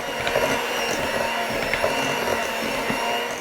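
Mashed potatoes with warm milk, butter, salt and black pepper being blended with an electric mixer, giving a steady, fairly loud whirring drone that runs throughout with no talking.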